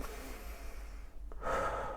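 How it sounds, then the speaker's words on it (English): Slow, deep belly breath drawn in and let out during a calm guided breathing exercise, one soft inhale building into a louder, airy exhale, close and alone with no talk. "Just deep breathing, deep within your belly, right under your belly."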